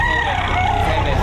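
A rooster at a poultry market in Batangas crows loudly and close by, a single sustained call heard alone.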